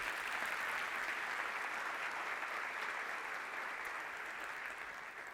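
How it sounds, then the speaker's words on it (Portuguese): A church congregation bursts into sustained applause during a sermon, a dense, even roar of many hands clapping that holds steady and fades slightly toward the end. "Quer aplaudir mais forte?"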